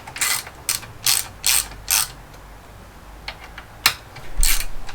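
A ratchet clicks in quick, close bursts as it loosens the handlebar clamp bolts on a 2019 Harley-Davidson XL1200X Forty-Eight motorcycle, about five rapid strokes followed by a pause and a few more scattered clicks.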